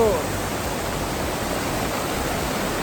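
Awao Falls, the second falls, pours as a steady broadband roar of rushing water, continuous and fairly loud, with a brief faint tone at the very start.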